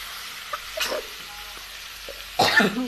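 Vegetables tipped into a hot pan and stirred, with a few soft clicks and scrapes early on, then a sudden burst of sizzling near the end, close and moderately loud.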